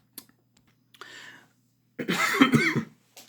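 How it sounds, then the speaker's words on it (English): A short breathy sound, then one harsh, close cough after a brief pause, with faint clicks around it. "I didn't expect a cough then"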